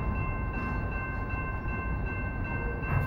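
A train rumbles steadily past, a loud continuous roar of rail cars with sustained horn-like tones running through the whole short stretch.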